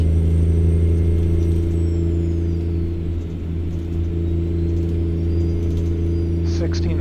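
A Kenworth K100E truck in American Truck Simulator with a steady, loud engine drone and low harmonic hum, holding near-constant pitch as it pulls a flat deck trailer at highway speed, a faint high whine above.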